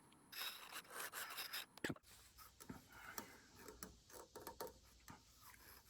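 A carbide-tipped tool scrapes and rasps inside a small turned miniature vase in short repeated strokes, close and fairly quiet, with a brief knock near the two-second mark.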